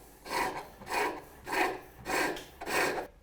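A skew chisel cuts a wood crest post spinning on a lathe, the tool passing over the work in five even, rasping bursts about half a second apart, close and steady, with no talk.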